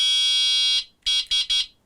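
Electric horn on a Onebot S2 Mini folding e-bike, a loud, close, shrill electronic tone held for nearly a second, then three short sharp blasts in quick succession.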